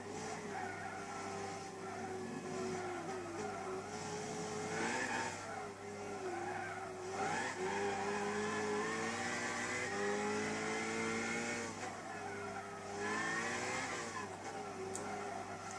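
A race car in Gran Turismo 6 at Bathurst drones continuously with a loud engine note that rises and falls as the throttle is fed in and eased, with tire squeal layered over the steady roar.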